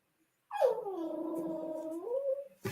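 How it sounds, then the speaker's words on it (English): A small dog whimpers and whines in one long, rising then wavering cry lasting about two seconds, close and fairly quiet, following a moment of silence, with no voices heard. "stop it, Shanka. My little dog's staring at me."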